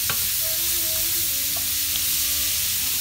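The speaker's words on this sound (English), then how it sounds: "I'm gonna take these green beans and I'm gonna saute them with this onion and this butter" Green beans sautéing with onion and butter in a pan give a steady soft sizzle, with a utensil stirring now and then and no voices.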